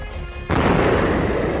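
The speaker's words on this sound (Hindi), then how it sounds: "तेहरान की सुबह एक बार फिर धमाके की आवाज से कांप उठी।" A sudden loud boom from an air strike on southeastern Tehran erupts after a quieter start, then rumbles on as a heavy, sustained roar.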